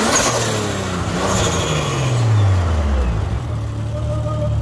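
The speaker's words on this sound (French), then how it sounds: "tu nous fais une petite accélération pour voir ce que ça donne" A car with a Nissan RB25 engine revs hard up through a single rising then falling sweep, loud and close, with its exhaust note filling the space and no voices.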